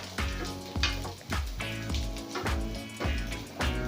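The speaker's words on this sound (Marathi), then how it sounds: "त्याच्यामध्ये आता हा कोवलेला नारळ ओला नारळ तर तो एक दोन मिनटं परतवून घ्यायचा आहे" Grated fresh wet coconut sautés in hot ghee, a steady sizzle broken by rhythmic stirring scrapes and clatters of a spoon against the pan about every half second.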